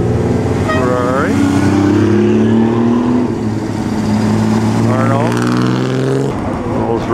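A Ferrari driving past at the Pebble Beach Concours, a loud engine drone with shifting pitch as it goes by close, a voice speaking over it.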